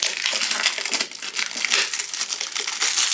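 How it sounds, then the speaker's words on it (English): Cellophane wrapping crackles and crinkles steadily and up close as it is pulled off a new Triumph oil filter for a Bonneville oil change. "So, unwrap it from the cellophane."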